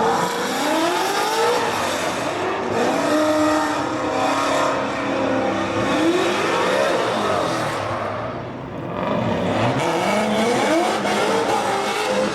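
Pro-am drift cars run in tandem around a track in a continuous loud roar, their engines sweeping up and down in pitch with tire squeal, dropping briefly before surging again.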